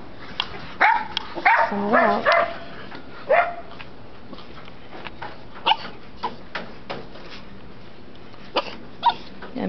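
Puppies at an adoption event yip, bark and whimper in short, scattered bursts close by. Quiet gaps fall between the calls, and a voice speaks briefly.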